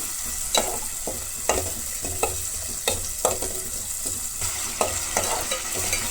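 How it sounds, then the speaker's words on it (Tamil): Tomatoes sauté in hot oil for an Indian brinjal kuzhambu, giving a steady close sizzle with scraping stirs and clinks at irregular intervals, no voices. "சேர்த்து அந்த தக்காளியும் எண்ணெயிலே நல்லா வதங்கணும்."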